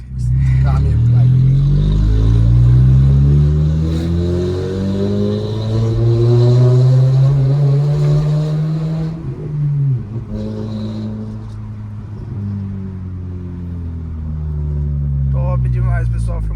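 A 2010 Toyota Corolla with a full 304 stainless steel exhaust and DPW diffuser accelerating, its deep, loud droning exhaust rising in pitch through revs close by, easing off briefly before building again.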